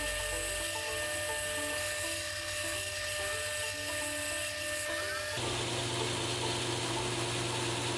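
A belt grinder whines steadily as bevels are ground on a chunky tanto knife blade, a loud continuous high-pitched machine tone with a slight shift in pitch and texture partway through.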